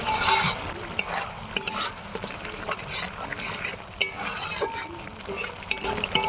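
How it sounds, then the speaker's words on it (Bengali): Bhola fish masala curry is stirred and fried in a pan, giving steady loud sizzling with scraping spoon strokes and occasional clinks, close up and continuous throughout. "মশলাটা আর একটু কষতে হবে"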